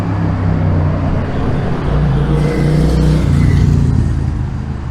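A tuned car engine revs hard and roars past close by on a street in Neuchâtel, loud and throaty, with a steady rumble of street traffic underneath.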